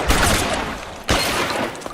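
Gunfire in the L.A. Noire video game, a rapid burst of shots with a second volley about a second later, loud and close with a noisy wash between the shots.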